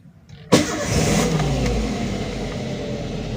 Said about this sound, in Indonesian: sesudah start seperti ini, ketika idle RPM itu sudah idle langsam di bawah 1000